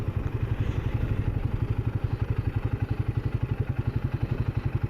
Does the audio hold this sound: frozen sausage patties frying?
no